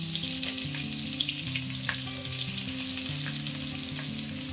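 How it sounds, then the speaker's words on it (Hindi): Thinly sliced onion, lightly crushed, fries in a pan for masala khichdi, giving a steady close sizzle with occasional crackles and no talk. "थोड़ा सा मसल के डाल देंगे तो जल्दी से फ्राई हो जाएगी"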